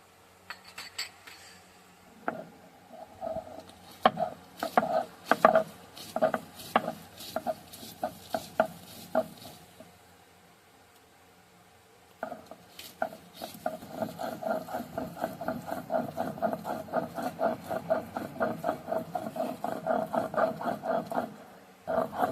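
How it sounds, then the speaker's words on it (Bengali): Garlic being ground into paste, heard as rhythmic scraping and knocking strokes of stone on stone that come in close bursts, pause, then resume faster and steadier, with no talk. "এবার আমরা রসুনটাকে বেটে নেব।"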